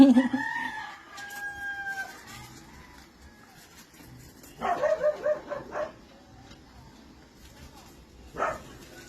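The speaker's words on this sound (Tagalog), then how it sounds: "Kahit merong nagtatahulan sa labas ng aming bahay." Dogs bark in short bursts from some distance outside a house, mixed with a rooster's crow and clucking, with quiet gaps between outbursts.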